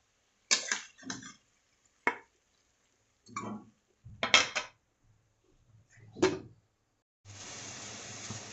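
Cooked, well-fried beef being put into a pressure cooker: a handful of separate metallic clatters and scrapes, close and moderately loud, then a steady soft hiss at the end, with no talking.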